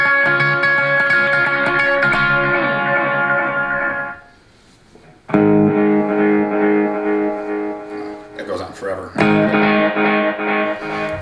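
Sustained, heavily effected electric guitar chords through a Blackstar ID:Core 40 Stereo practice amp, ringing with reverb and echo, loud, cut off briefly before resuming with more processed, swirling tones.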